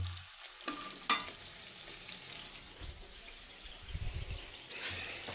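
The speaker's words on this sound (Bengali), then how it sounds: "এই যে তেল উপরে ভাসছে এখন আমি সবজি দিয়ে দিব" Potato and cauliflower frying in hot oil: soft, steady frying hiss with a few sharp clinks and scrapes, plus low rumbling bursts near the end; no one speaks.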